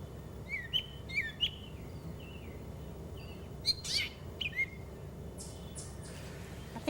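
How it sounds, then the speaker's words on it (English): A catbird calls from a tree at a garden edge, giving a few short, sharp chirps and mewing notes at a moderate distance, separated by pauses over a steady outdoor background hum with no talking. "I hear a catbird up there, Beth."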